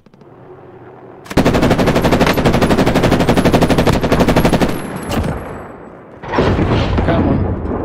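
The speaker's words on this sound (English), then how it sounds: "Your gunshots." Call of Duty: Warzone gunfire: loud, rapid automatic bursts pour out continuously for several seconds, ease off briefly, then resume in another sustained burst.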